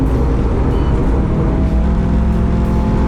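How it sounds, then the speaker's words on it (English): A race car engine revs hard with a loud, dense, continuous roar and steady mechanical drone, close and alone with no speech. "You just got to give it a big rev and pretty hard on the gear"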